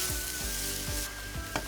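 Americana brand chicken pieces hit a hot frying pan for a samosa filling, crackling with a bright continuous sizzle, punctuated by a few soft dull knocks of stirring, close by.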